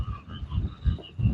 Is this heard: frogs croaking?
yes